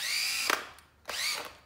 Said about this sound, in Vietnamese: Số 2 là một con khoan đầu kẹp 13 ly bác ơi.